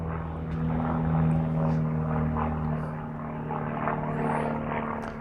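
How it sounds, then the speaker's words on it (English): A propeller airplane flies low overhead above open space in Berthoud, Colorado, its steady droning hum with strong tonal harmonics holding loud and constant throughout, swelling slightly midway. "There's an airplane flying pretty low."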